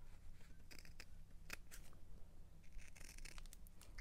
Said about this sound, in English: I'm just going to take my scissors and cut away